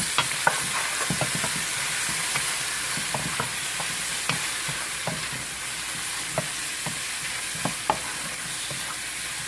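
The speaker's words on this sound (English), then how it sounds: "I'm gonna fry this up for a couple minutes." Eggplant (baigan) frying in a pan for Guyanese fry baigan, with a constant bright sizzle and regular soft scrapes and taps of a utensil stirring the pieces, no voices.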